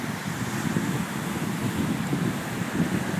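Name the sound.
ocean waves at Laie beach with wind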